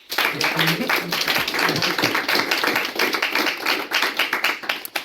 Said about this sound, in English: Give Kenny another round of applause.